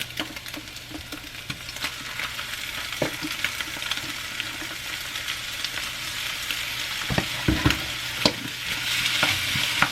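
Scrambled eggs frying in a pan as beans are added and stirred in, giving a steady sizzle with irregular scraping and clatter from the stirring. The sound stays close and moderately loud, and no one talks.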